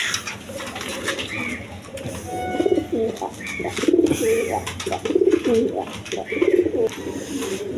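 Pigeons for sale coo repeatedly in soft, rhythmic bursts close by, their throaty calls rising and falling over a low background hum.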